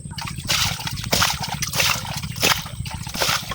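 Shrimp and water are poured into a plastic bucket in repeated splashing, sloshing pulses, close and fairly loud.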